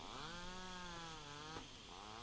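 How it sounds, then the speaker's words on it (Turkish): A continuous droning saw with a wavering buzzing pitch, from the horror video game Mad Father, running steadily and loudly throughout with no speech. "Testere sesleri."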